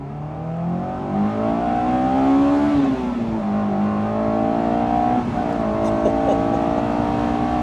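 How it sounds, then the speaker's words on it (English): A Honda S2000 in Gran Turismo 7 revs hard toward redline, a loud sustained engine wail that climbs, dips briefly, then holds high, heard alone without talk. "Let's redline it."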